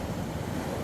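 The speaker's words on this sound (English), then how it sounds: "Look at these waves." Stormy sea waves roll onto the beach at Lyme Regis in Dorset, making a continuous, rough, close roar mixed with heavy wind buffeting the microphone.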